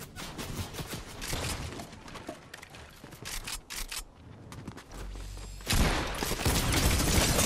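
Sustained rapid minigun fire from a Brutus in Fortnite plays as a dense rattling stream of shots, pausing briefly before a louder, heavier burst near the end.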